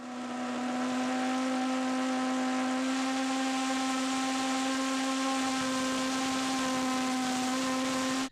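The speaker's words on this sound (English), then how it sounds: "I did a quick test on the engine without the valve to see how much thrust the engine would produce." A 3D-printed cylindrical pulse jet engine, run without its valve, roars in a loud, steady buzzing drone that holds unbroken for the whole run.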